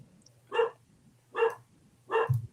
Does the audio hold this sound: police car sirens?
no